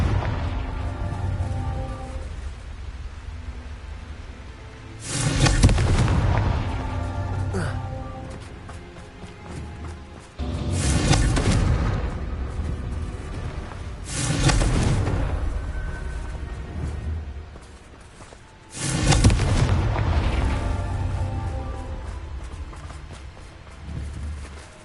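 Confringo fire-spell explosions in Hogwarts Legacy, several heavy booming blasts at irregular intervals of a few seconds, each with a crackling, rumbling tail over constant battle ambience and game music.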